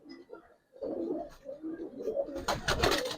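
Giribaz silver and coloring pigeons coo in a steady, close murmur that thickens into a louder, busier burst of calls and fluttering near the end.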